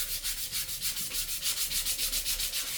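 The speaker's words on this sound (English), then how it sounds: "So I have to sand it up again and see if that makes any difference." Close, loud sanding of a wrinkled paint layer, a continuous run of quick back-and-forth abrasive strokes in an even rhythm, with no voices.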